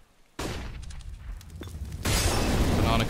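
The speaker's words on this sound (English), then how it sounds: "Nade going to go out." A grenade goes off in Counter-Strike on the Inferno map, a loud broadband burst starting abruptly with a second heavier blast-like surge later, sustained rumbling noise between, with a commentator's voice faintly underneath.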